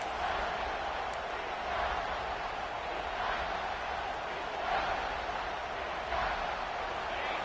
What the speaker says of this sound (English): Decibels rising as the crowd gets behind this defense on 3rd down.